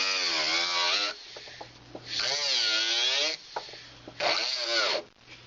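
High-speed rotary jewelry drill fitted with an HSS bur cutting a bezel, running in three long whining bursts separated by short pauses, close and fairly loud.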